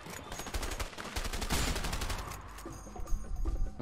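Rapid gunfire in A Way Out, a sustained burst of quick automatic shots rattling steadily for several seconds, loud and close, with a few heavier reports toward the end.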